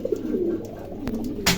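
Pigeons, including long face almond birds kept in pairs, give soft low cooing close by, a steady murmuring coo with a brief rustle near the end and no talking.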